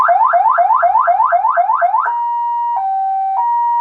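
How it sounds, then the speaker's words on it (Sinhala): Electronic siren system fitted to a modified Toyota BJ40, loud and close: a rapid rising yelp repeated about eight times, then a steady two-tone wail with brief breaks, no voices. "ඔයාලට පේනවා ඇති මෙතන අපි යූස් කරලා තියෙනවා සයිරන් සිස්ටම් එකක්."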